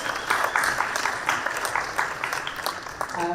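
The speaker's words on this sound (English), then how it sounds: "Yes, you clap, please, whoop, holla, all that." An audience at a casino-evening conference clapping and cheering: steady, dense applause throughout, moderately loud and fairly close, with no talk over it.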